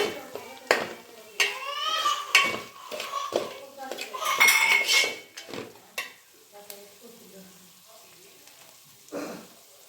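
Cooked rice mixed in a metal vessel for lemon puliyogare: loud clanking and scraping of a spoon against the pot in irregular bursts, with a voice speaking briefly in places, then quieter toward the end.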